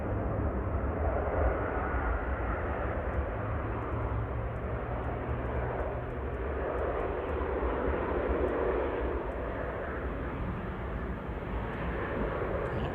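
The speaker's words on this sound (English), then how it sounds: "Okay, the A380 engine start." An Airbus A380 engine spooling up at Manchester Airport, a loud, continuous low roar and broadband rumble that holds steady throughout, heard from outside at a distance with no voices.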